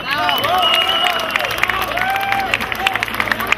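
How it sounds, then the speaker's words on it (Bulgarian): A large crowd at a high school graduation ball claps steadily and cheers, the applause continuous and loud, with whistle-like tones and voices mixed through it. "Аплодисменти за учителите на Випуск 2014 година."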